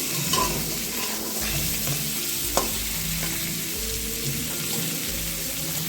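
Crab fries in hot oil in a kadai, giving a continuous sizzle with a few scrapes and clinks of stirring, close and fairly loud with no talk.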